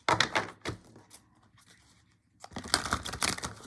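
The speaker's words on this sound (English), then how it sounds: "I'm going to shuffle one more time." Tarot cards are shuffled in two bursts of quick, close papery riffling and slapping, with a near-silent pause between them.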